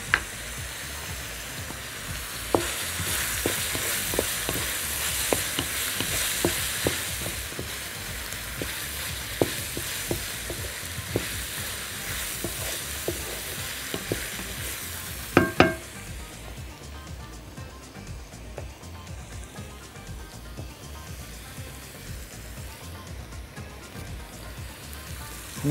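Chopped vegetables sauté in a hot pan for Moroccan harira soup, a steady dense sizzle with scattered spoon clicks and stirring scrapes that quiets noticeably about two-thirds through, with no talking.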